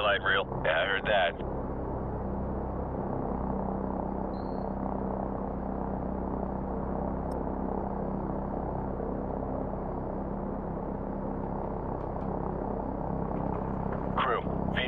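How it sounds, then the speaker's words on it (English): Helicopters in the Call of Duty Modern Warfare Remastered campaign, a loud, steady rotor drone that fills the whole stretch, with brief radio voices at the start and end. "Crew, be advised, friendly helicopters entering the area."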